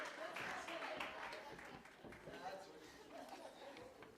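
An audience claps for someone speaker at an International Women's Day 2022 event, the applause steady and diffuse across the room, mixed with crowd chatter and a few laughs.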